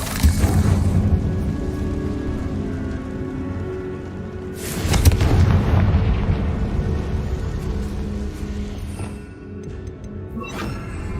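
Explosion from a Confringo spell in the game Hogwarts Legacy, a loud burst around the middle with a rumbling, crackling tail, set against continuous noisy combat ambience.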